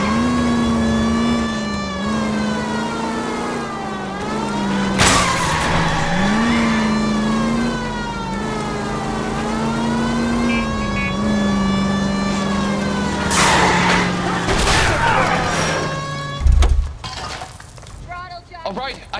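A car chase in the video game L.A. Noire: a loud, continuous engine roar whose pitch swells and dips as it revs, with a wailing siren-like tone, sharp crash and impact bursts around the middle and end, and skidding noise.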